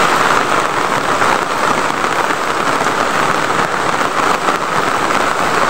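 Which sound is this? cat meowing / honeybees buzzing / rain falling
rain falling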